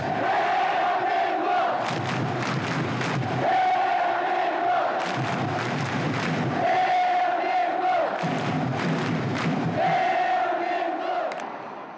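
A large Korean crowd cheers Korea's goal against Poland at the 2002 World Cup, roaring loudly and chanting in rhythmic bursts that rise and fall several times over sustained noise.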